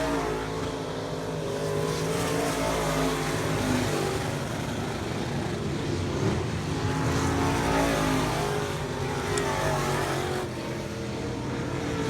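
An A Modified race car engine drones and roars continuously up close, stumbling, uneven and rough, never settling into a clean run.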